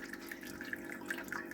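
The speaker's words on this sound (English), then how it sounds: "we've got it transferring sparge water, top of the mash tun, fly sparging" A steady stream of sparge water pours and splashes continuously onto the top of a mash tun during fly sparging of an Irish red ale, a soft, even flow with faint gurgles.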